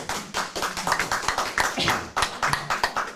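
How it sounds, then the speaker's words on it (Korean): A small audience at a unification lecture in Busan claps in a loose, uneven burst of close handclaps lasting a few seconds, with no talking. "박수를 치려면 좀 크게 좀 주세요"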